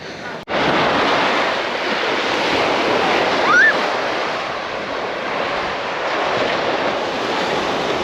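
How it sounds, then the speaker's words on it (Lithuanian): Sea waves wash onto the sandy Baltic shore on the Lithuanian coast near Nida, a loud continuous surf roar mixed with wind buffeting the microphone. "Jeigu šiek tiek arčiau vandens, tai bangos skalauja"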